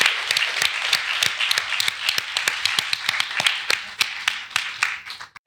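An audience claps for panelists at an idea debate on diaspora, mobility and return, a dense run of many hands striking near and loud, holding steady before tapering off at the end, with no talk over it.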